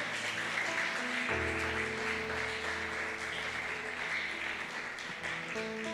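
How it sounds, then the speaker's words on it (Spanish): A church congregation gives a sustained round of applause lasting the whole stretch, a dense, steady patter of many hands at moderate distance, with faint music tones underneath. "esta ofrenda de palmas para ti"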